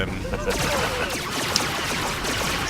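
Dense blasts and explosive impacts from a fusion missile combo pile up in a Star Wars: The Old Republic Voidstar PvP match played as an Innovative Ordnance Mercenary, loud and continuous with a voice faintly underneath.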